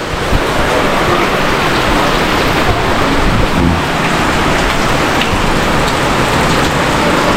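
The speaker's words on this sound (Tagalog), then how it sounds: "Kasi umulan na naman. Ano, lakas ng ulan." Heavy rain pours steadily and loudly, a dense unbroken hiss of drops drumming on surfaces, with no one speaking.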